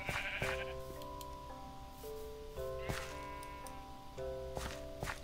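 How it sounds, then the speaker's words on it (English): Sheep bleat in a farming video game, a few bleats layered over a steady, sustained synthesized musical drone with soft footstep-like taps; no talking. "Naked sheep. Naked sheep."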